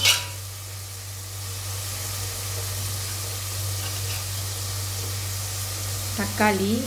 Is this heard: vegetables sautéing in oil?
yes